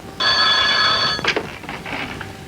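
A telephone rings in one sustained, bright electronic trill for about a second, then breaks into short fading bursts, loud and close, with no speech.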